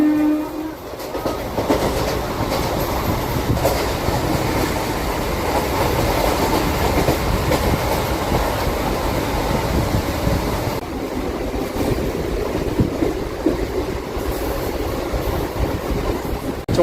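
A MEMU train runs fast past Kantakapalli station on the Visakhapatnam to Parvatipuram line, a loud continuous rumble with rhythmic wheel clatter heard from on board, and a brief horn near the start.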